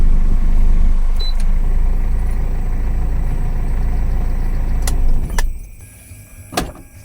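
An overheated car engine runs roughly at close range, a loud steady low rumble that suddenly cuts off near the end, followed by a few sharp clicks and clanks in the quieter aftermath.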